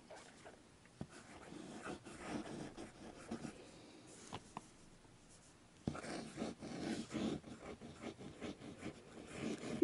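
A fountain pen with a 1.5 stub nib writes downstrokes and cross strokes in orange ink on paper, giving faint close scratchy strokes in short clusters with pauses between them.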